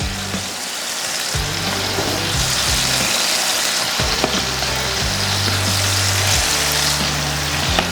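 Burgers fry on a Blackstone 22-inch E-Series griddle with a steady, loud sizzle throughout, broken by a few scraping spatula strokes and low mechanical hum underneath.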